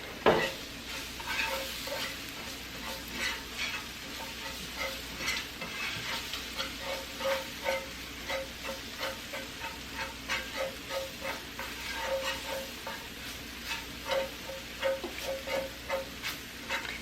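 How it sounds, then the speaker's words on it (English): Flour cooking in a pan for homemade gravy, a soft sizzle under a steady rhythm of stirring scrapes that repeats about once a second, close and fairly quiet. "We're going to let that flour cook down."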